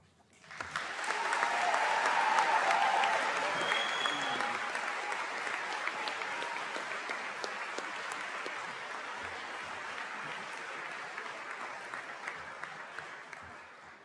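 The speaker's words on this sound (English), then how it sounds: "Give me another round of applause for Mr. Forbes" Steady applause from a large crowd at the St. Charles High School 2023 graduation ceremony, swelling early then holding at a moderate, somewhat distant level through the whole stretch.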